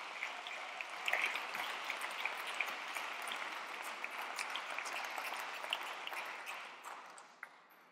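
Applause at a women's climate leadership event, a full audience clapping steadily and evenly for several seconds, then thinning out and tapering off near the end.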